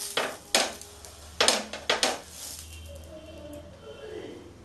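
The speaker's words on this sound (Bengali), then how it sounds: "এই তেলটা নিয়ে আমি তাওয়াতে হালকা করে লাগিয়ে দেবো, এইভাবে আমি লাগিয়ে দেবো" Oil spread lightly over a tawa griddle for Bengali-style chita pitha: a handful of sharp clinking scrapes of a utensil on metal come close together, then fade to a faint, quiet hiss.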